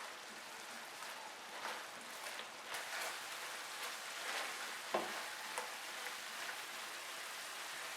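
Buffalo sauce with mustard powder cooks over a medium flame, a steady soft sizzle and bubbling with occasional light pops, close and fairly quiet without talking.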